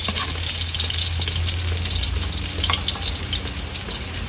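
Lechon pork meat frying in a pan for chopsuey, a loud steady sizzle with a low hum of burner or fan underneath, continuous and close, with faint stirring scrapes and no voices.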